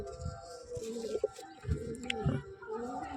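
Pigeons coo in low, soft bursts several times, with a faint chirp and some background rustle, close by and moderately quiet.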